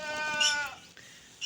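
Goats bleating on a farm at feeding time, a close, wavering bleat that fades after about half a second, followed by quiet rustling and a brief second bleat at the end, with no talk.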